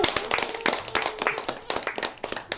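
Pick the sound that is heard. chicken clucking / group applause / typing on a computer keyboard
group applause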